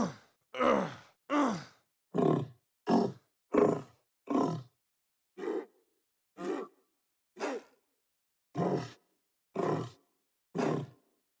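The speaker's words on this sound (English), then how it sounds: "I experimented with using a vocoder with my voice and different animal sounds set as the carrier." Monster roars built by vocoding a human voice with animal sounds as the carrier: a dozen short growling, groaning bursts with clear silent gaps, fairly close and isolated.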